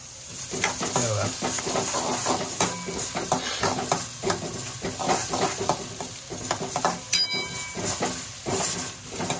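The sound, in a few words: tomato and vegetables stir-frying for chicken chilli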